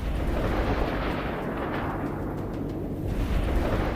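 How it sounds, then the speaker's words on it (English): A concealed mine detonates under an armored vehicle in a Russian tank convoy, producing a loud, sustained rumbling roar with crackling bursts that fades slightly before swelling again, with no talk. "The explosion sent up dense smoke"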